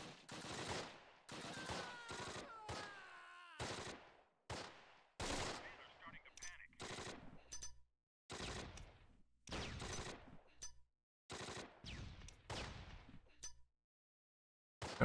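Gunfire in the wargame Close Combat: repeated sharp bursts of rifle and machine-gun fire in separate volleys with short silent gaps, fairly faint overall, with some talk between shots.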